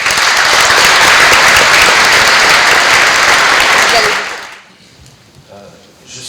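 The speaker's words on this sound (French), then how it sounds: "Et donc si on peut effectivement l'applaudir." At a conference, an audience breaks into loud, sustained applause that fills the room for about four seconds before fading to quiet room noise.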